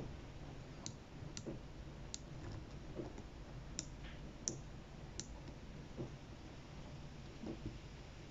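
A 120-click watch bezel on a Submariner-style homage being turned, giving a series of sharp, close, evenly spaced clicks over a quiet background.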